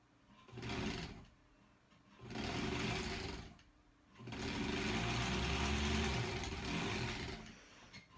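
Sewing machine stitching quilt block pieces for an American Spool sampler block, running in three bursts that start and stop, with the longest run near the end, each a steady close mechanical whir with no talk.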